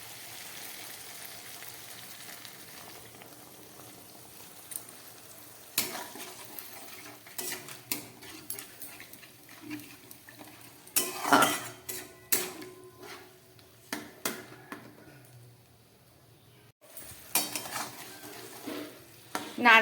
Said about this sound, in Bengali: এবার আমি এর মধ্যে দিয়ে দিচ্ছি নারকেলের দুধটা।